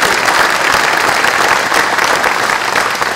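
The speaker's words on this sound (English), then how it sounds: "Let's give them a round of applause." An audience at an economic development announcement in Fulton gives a round of applause for the Hickman County partners, a sustained, even wash of many hands clapping with no talking.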